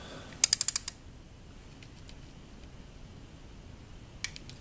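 A torque wrench clicks while bolts are tightened on a Ducati Diavel, a quick cluster of about five sharp ratchet clicks close by, then quiet, with a couple of faint clicks near the end.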